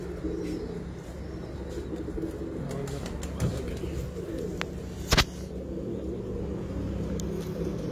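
Breeder pigeons flying and cooing outdoors, their soft calls steady against a constant low rumble of background traffic, with one sharp brief sound standing out near the end.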